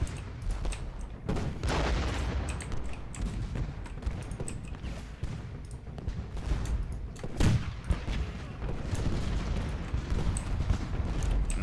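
Musket volleys crackle through a Civil War battle in Ultimate General: Gettysburg, irregular bursts of massed gunfire rolling on steadily with heavier booms around the middle, loud and continuous.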